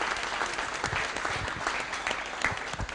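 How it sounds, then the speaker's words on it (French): An audience at a business event in Tours breaks into sustained applause, a dense, even wash of many hands clapping with a few sharper claps standing out, and no one speaking. "applaudissements."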